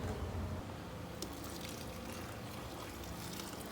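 Liquid soap mixture pours into a drum as a soft, continuous liquid stream, fairly quiet and close, with a faint knock partway through and no voices.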